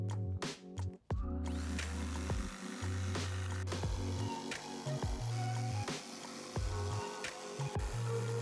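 Power tool cutting plywood pieces for a flower-shaped craft, a loud, steady, whining motor drone close by, broken by brief pauses and bursts of rattling and clunks, with no talking.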